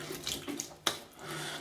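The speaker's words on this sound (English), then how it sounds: "dip the alum in cold water" An alum block is dipped into cold water at a sink, giving soft watery splashes and trickles with one sharper splash partway through, close and fairly quiet.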